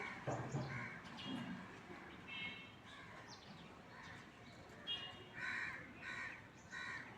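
A pet bird calls repeatedly in harsh, crow-like caws, several bursts spread across the stretch at moderate distance, with faint background voices.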